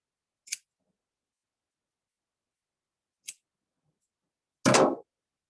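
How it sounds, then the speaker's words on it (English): Scissors snip through yarn loops: two brief crisp cuts spaced apart, then a louder, fuller snip near the end, with silence between. "We're just cutting the loops."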